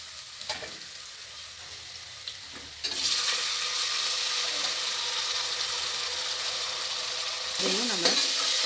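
Onions and ginger garlic paste sizzle steadily in a hot pan, the frying growing louder partway through with occasional scrapes and stirring clatter, no talk.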